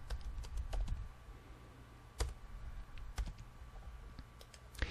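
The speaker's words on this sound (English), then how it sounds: "You can type in the content that you want here." Fingers type on a computer keyboard in quick, uneven runs of close, crisp key clicks, with a few louder single taps and short pauses between bursts.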